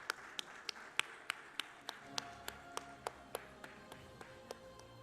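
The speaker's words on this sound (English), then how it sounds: "give it up for Abhishek Narayan." Conference audience at a healthcare and wellness innovation event clapping as a presenter is welcomed: sharp, evenly spaced claps, fairly faint and distant, over a quiet room hum.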